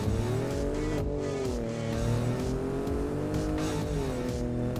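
A 2017 Ford F-150 Raptor EcoBoost pickup accelerates hard on the road, heard from inside the cab as a loud, steady engine drone that climbs in pitch, dips briefly at a gearshift, then pulls again.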